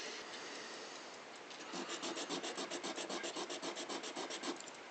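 Wooden clock part from a Waltham Model 1883 church regulator being sanded with a finer-grade abrasive: a soft hiss, then steady rhythmic rasping back-and-forth strokes, close and fairly quiet.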